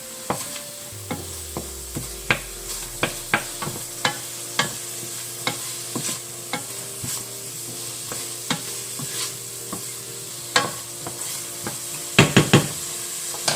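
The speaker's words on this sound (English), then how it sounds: "we're just gonna cook these green onions. And this onion together." Green onions and onion cook together in a pan. A steady sizzle runs beneath repeated spatula taps and scrapes, with a low hum in the background. The sound is close and there is no talking.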